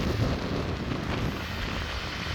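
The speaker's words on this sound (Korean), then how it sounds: "비는 내리고 바람이 세차게 불어오고 파도가 높게 일렁입니다." Strong wind gusting hard across the seaside at Étretat on the Normandy coast during rain and high waves, a continuous broad roar buffeting the microphone for the whole moment, with no voices.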